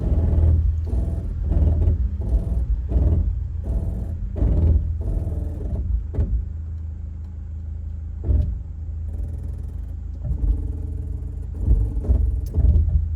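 A vehicle crawls slowly over a small mound on a limestone track along Black Range Road, its engine a steady low rumble with brief surges and knocks as the wheels ride up and over.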